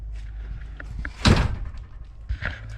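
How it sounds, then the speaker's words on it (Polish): A wool-insulated door in a vehicle build being insulated closes with a single muffled thud near the middle, surrounded by quieter handling knocks and rustles. "te drzwi są już ocieplone wełną. Zobaczcie, jak one są wyciszone."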